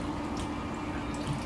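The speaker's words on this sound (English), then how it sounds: "this top hose here" Water pours steadily from the top hose of an Enagic Level X Super 501 ionizer, a continuous hissing rush with no pauses, moderately loud and without talk.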